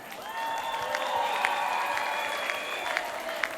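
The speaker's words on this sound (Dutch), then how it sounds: "Mag een heel groot applaus voor de Marotte." Applause and cheering from the audience at a carnival finale show, steady crowd clapping at moderate distance with some sustained tones running underneath.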